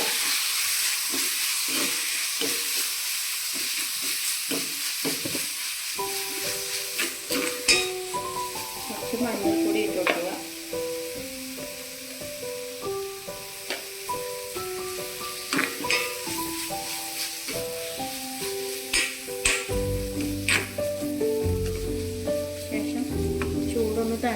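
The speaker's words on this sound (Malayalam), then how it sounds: "മല്ലിപ്പൊടി ഇട്ട് കൊടുക്കുക ഇളക്കി കൊടുക്കുക" Fish curry masala fries in a pan as coriander powder is stirred in, a continuous close sizzle with repeated scraping stirs and spatula knocks against the pan throughout.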